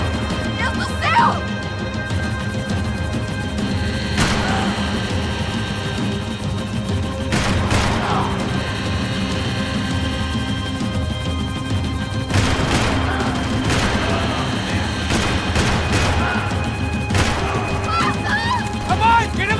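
Gunfire and crashing impacts in the action game Max Payne 3, with repeated sharp shots and smashes spread through a busy, loud game scene while characters shout over the noise.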